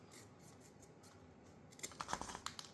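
Scissors snipping off excess tie-down cord on a PVS-14 night vision helmet mount, a few quiet close crisp cuts near the end after a faint hiss.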